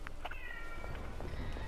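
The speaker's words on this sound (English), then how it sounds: "Shush, cat." A pet cat meows a few times in a living room while an Overwatch game plays, its short cries sitting over steady game audio and background noise.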